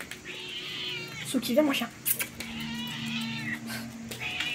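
Pet cats meow repeatedly at close range, some calls drawn out and whiny, while someone talks in French over and between them.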